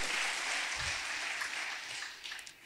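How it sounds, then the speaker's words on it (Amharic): A congregation claps steadily through the whole stretch at an Easter celebration in Tulu Dimtu Kale Heywet church, the applause moderately faint and fading slightly at the end. "እልልታ ጭብጨባ ለጌታ ይሁን"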